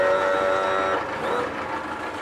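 The electric tilt and trim motor of a 2001 Mercury 75hp four-stroke outboard whines steadily up close, a sustained mechanical hum that drops slightly in pitch partway through.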